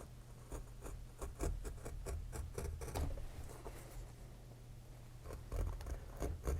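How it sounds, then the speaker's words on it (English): A V-gouge cuts a stop cut along a line in basswood, giving repeated close, dry scraping and crisp slicing strokes in an irregular rhythm, heard alone at moderate level. "I'm going to use this V-gouge, in this case, to make the stop cut."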